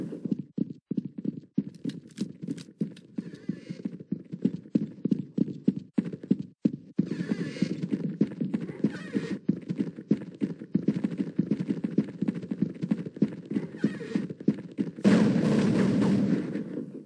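Horse hooves clip-clopping in a video game, a quick steady run of close, sharp hoofbeats lasting many seconds, then giving way to a dense loud burst at the end.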